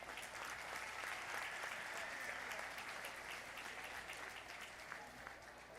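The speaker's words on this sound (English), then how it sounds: "Let's give her another round of applause" Sustained crowd applause at a Thanksgiving feast hall, dense even clapping held steady and fairly distant, with no pause and no talking over it.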